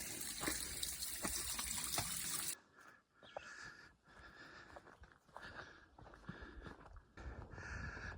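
Water trickles and splashes from a small trail water source along the Appalachian Trail, a steady, close flow that turns softer and more broken partway through.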